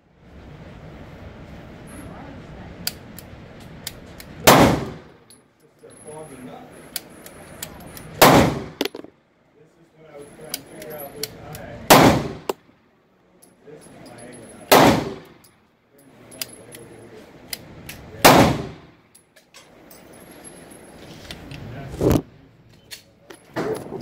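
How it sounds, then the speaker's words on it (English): A Taurus PT 111 G2 pistol fires 1953 military surplus ammunition: six sharp, loud shots arrive a few seconds apart, with quieter clicks and handling noise between them. "I'm going to shoot them out of my Taurus PT 111 G2"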